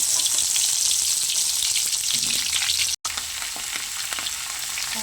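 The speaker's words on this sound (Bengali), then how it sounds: "এবার আমি ওই তেলের মধ্যে কপিগুলো ভেজে নেব" Cauliflower florets frying in hot mustard oil left in the kadai after the rohu, a strong continuous sizzle and crackle, close and steady, with a single momentary gap.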